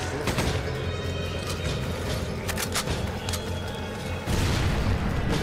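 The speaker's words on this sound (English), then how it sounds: "There's a dude throwing dynamite." Dynamite blasts in Resident Evil 5 gameplay, a dense roar of booms and crashing debris that rumbles continuously, with a fresh heavy surge near the end, loud and close with no clear talking.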